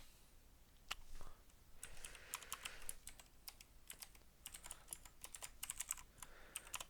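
Computer keyboard typing with a quick, irregular run of key clicks, steady and fairly close, with short pauses between bursts and no talking.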